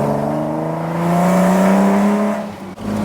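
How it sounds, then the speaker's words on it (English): Cosworth V6 Cortina Estate, 1.7 tons, doing a smoky second-gear burnout on the street, engine screaming at high revs with a rising pitch, loud and close, then a sudden sharp break near the end. "His second gear loves a burnout in seconds"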